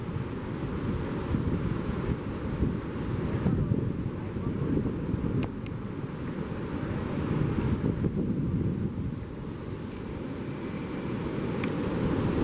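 Sea surf rolls in with the rising tide on the beach at Shah Porir Dwip, Chattogram, a steady broadband wash of waves blended with wind buffeting the microphone, continuous and fairly loud throughout.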